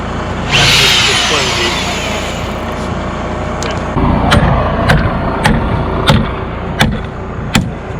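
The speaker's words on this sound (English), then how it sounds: "turn this back to the regular drill setting" A power drill bores into a radiant-heated concrete slab in a DIY SIPs home build: a loud whining spin-up, then a steady grinding drone broken by repeated sharp knocks near the end.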